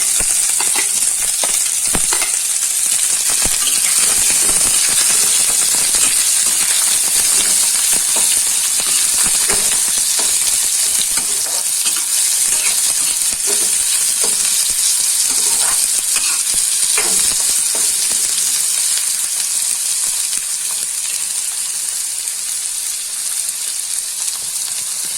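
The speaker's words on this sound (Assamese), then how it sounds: "ইয়াত পিঁয়াজ, কেঁচা জলকীয়া ধুনীয়াকৈ ভাজি ল'ব লাগিব।" Onion and green chilli frying in a pan as the base for pork, a steady loud sizzle and hiss that runs unbroken with occasional stirring scrapes.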